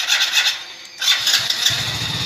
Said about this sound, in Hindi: बाइक सेल्फ से स्टार्ट हो चुकी है और सिंगल सेल्फ के अंदर स्टार्ट हुई है बाइक